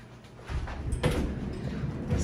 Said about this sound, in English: Sliding door, very cute,